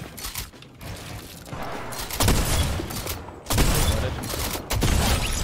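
Gunfire in the Fortnite video game: several loud bursts of shots, closely spaced, break out across a few seconds amid crackling game sound effects.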